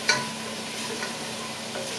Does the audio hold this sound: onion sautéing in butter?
yes